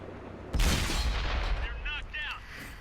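A single heavy tank gun blast in a video game, likely the STB-1, booms close and loud, then someone talks over the fading echo.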